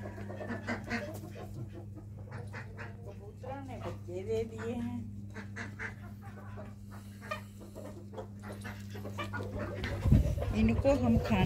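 Chickens cluck and call softly at feeding time in a home yard, faint and scattered under someone speaking in Hindi, with a steady low hum running underneath.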